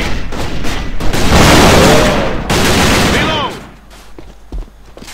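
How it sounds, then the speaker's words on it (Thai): Sustained automatic gunfire in the online shooter AVA, loud dense bursts for several seconds that cut off and resume, then fading to scattered distant shots and a single thump, with no talking. "ยิงมาจากไหน"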